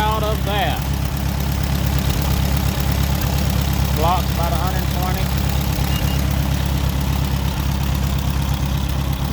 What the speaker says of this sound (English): Not bad for sitting there idling for 20 minutes.